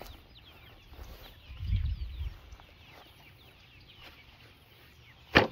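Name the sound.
young chickens, one to two month old chicks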